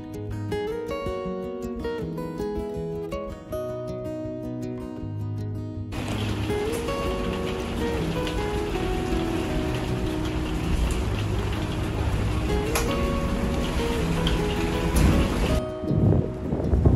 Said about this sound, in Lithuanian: žiauriai lyjo lietus